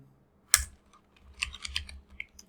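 Typing on a computer keyboard while entering text in Photoshop, a sharp initial key strike followed by a short burst of quick, light clicking keys, close and quiet with no talk.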